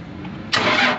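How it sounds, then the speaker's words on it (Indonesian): A Toyota forklift engine turns over and catches abruptly, jumping from a quiet background into a steady close rumble within a second. "kita nyalakan engine dulu"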